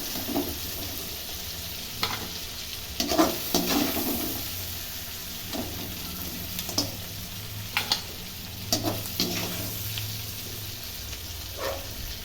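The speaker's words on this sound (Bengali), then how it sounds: "একটুখানি এরকম তেলের মধ্যে গ্যাজা গ্যাজা মতো হচ্ছে" Crab brains frothing in frying oil in a pan, a low continuous sizzle punctuated by a string of sharp stirring scrapes and clinks, close and unaccompanied by talk.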